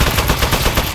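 Steady gunfire from the video game Aperture Desk Job, a short loud burst of rapid shots packed closely together with no pauses.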